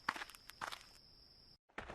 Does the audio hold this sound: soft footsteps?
yes